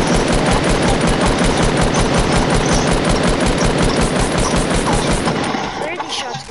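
Rapid automatic gunfire in a shooter video game, a loud fast burst of evenly spaced shots running almost continuously before tapering off at the end.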